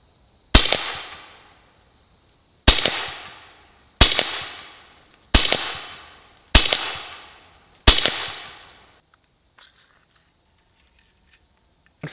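Pistelle X-68 air pistol fires a group of six sharp shots on a target, each a crisp loud crack with a short ringing decay, spaced about a second or more apart, over a steady high insect-like whine.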